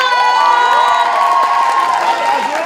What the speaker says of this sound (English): Everyone give a round of applause to Brazil!